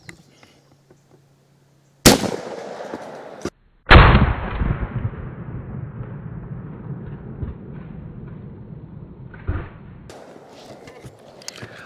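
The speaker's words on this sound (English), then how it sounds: "So I got another one of these triple defense loaded up. We're gonna see what it can do with that watermelon out there." A Rossi Taurus Circuit Judge fires a triple defense load at a watermelon outdoors, producing two loud sharp shots close together, each with a long rolling echo that fades slowly.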